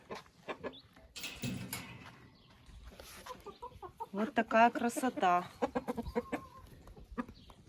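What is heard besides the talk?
Faverolles rooster and hens clucking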